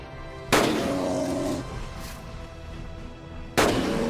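Two sharp gunshots from a hunting rifle fired at a dinosaur in the game Carnivores: Dinosaur Hunter Reborn, a loud crack at the start with a long rumbling tail, then a second shot near the end, no talk.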